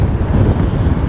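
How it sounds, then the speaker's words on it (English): Steady wind buffets the microphone at an exposed Scottish viewpoint near Lealt Falls, a continuous low roaring rumble, loud and close, with no voices. "A bit windy today, but it's not cold."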